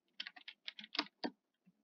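A computer keyboard is struck hard in a quick burst of about eight loud, close clacks and thumps, then a faint final tap, with no talking.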